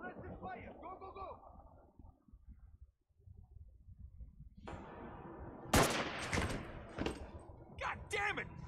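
Bursts of gunfire from the third-person shooter Army of Two: The 40th Day in a mall setting crackle loudly in the second half, following a stretch of game character talk.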